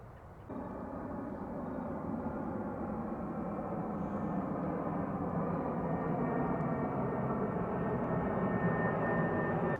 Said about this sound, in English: Today I could sit here and just watch the planes come in.